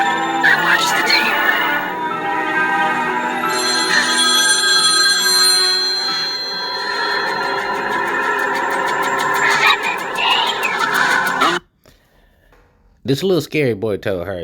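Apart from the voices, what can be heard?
telephone ringing in the film The Ring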